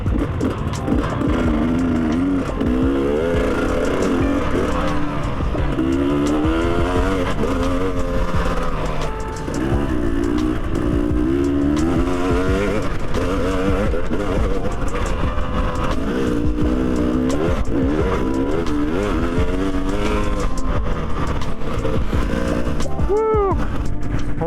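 A large group of enduro motorcycles rides a warm-up lap together on a rain-soaked dirt track, a continuous dense roar of engines rising and falling with revs, close by and loud, with a voice talking at times.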